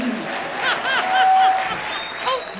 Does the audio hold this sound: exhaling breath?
no